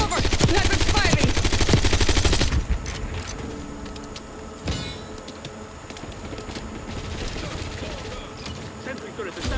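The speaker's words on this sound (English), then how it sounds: "Sniper's firing." Gunfire rattles through a Call of Duty match, starting with a loud, dense burst of rapid shots that gives way to scattered cracks over a busy battle background. Voices talk through part of it.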